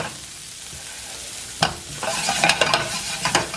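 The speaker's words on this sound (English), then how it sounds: "give it a good stir." Cauliflower rice with salt and black pepper is stirred in a hot pan, a soft sizzle that swells into a burst of crackling scrapes and clinks about halfway through, close and without speech.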